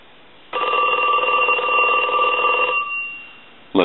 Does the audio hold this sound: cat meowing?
no